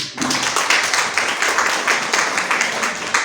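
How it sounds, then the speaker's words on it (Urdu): An audience at a women's political participation forum in Pakistan claps together, a steady burst of crowd applause filling the room from start to finish with no talk over it. "پہلے تو اپنے لیے تالیاں بجائیں سارے"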